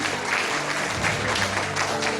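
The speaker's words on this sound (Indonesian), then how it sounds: "Tepuk tangan untuk mereka" Audience applauding a group of women who led prayer at a school religious gathering, steady clapping throughout with faint voices and some tonal background underneath.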